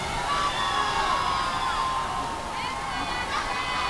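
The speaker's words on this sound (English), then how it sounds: "And once again, the crowd getting into it. This is an exciting crowd tonight." Spectators cheering and shouting at a high school wrestling match, Lowell versus Chelmsford, as a steady roar of voices and whoops from a gym crowd, with a commentator talking over it.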